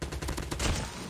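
Rapid burst of gunfire in COD Mobile piercing a concrete wall, a dense clattering fusillade of close shots lasting about a second.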